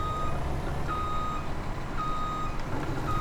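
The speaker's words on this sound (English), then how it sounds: "it does of course mean reversing the lorry properly" Reversing beeps from a lorry in Farming Simulator 17 sound as a steady series of evenly spaced electronic tones over a continuous engine rumble, with no talking.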